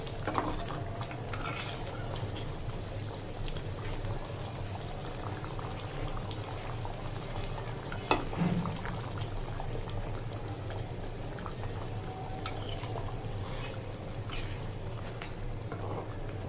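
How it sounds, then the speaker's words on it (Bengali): Liver and spleen curry simmering and bubbling steadily in a pot after hot water is added, a continuous soft boiling burble with a brief pouring splash partway through, no voices. "আর একটু পানি দিব।"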